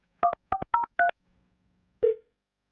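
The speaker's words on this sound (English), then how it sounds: "I'm going to dial this phone right now" Four quick touch-tone beeps from a phone keypad, then a pause and one more tone, clean and close.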